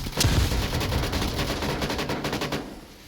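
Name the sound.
gunfire in a VR shooter video game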